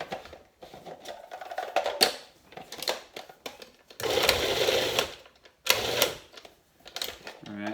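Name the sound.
grinding sauteed onion and mushroom mixture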